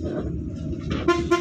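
Telolet bus horn sounding up close, two short bright musical toots over a steady engine rumble on the street.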